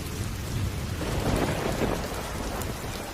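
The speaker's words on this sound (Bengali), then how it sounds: "এখনও গুড়ি গুড়ি বৃষ্টি পড়ছে।" Steady light rain falls with a low, continuous rumble of thunder swelling in the middle, the wet patter and distant roll blending into one constant wash with no voices.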